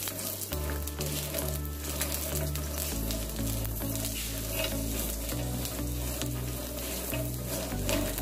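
Peanuts frying and being stirred in a pan for peanut chutney, a loud, continuous sizzle with rattling stirs, close and without speech, over a steady low background hum.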